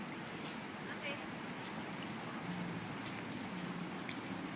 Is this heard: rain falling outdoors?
yes